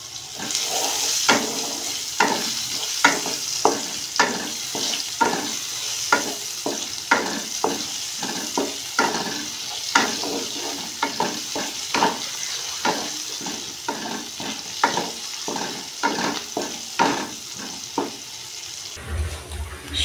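Chopped onion with a little turmeric and sugar sizzles in a pan for a Bengali prawn curry, with a spoon scraping and stirring in a steady, regular rhythm throughout, close and clear, no talking.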